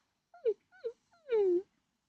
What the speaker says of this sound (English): He looked up at her with his big brown eyes and whimpered with concern.